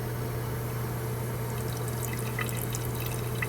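Toilet still leaking water after the supply is shut off, heard as a constant hiss and trickle of running water with a steady low hum beneath it, close and unbroken throughout.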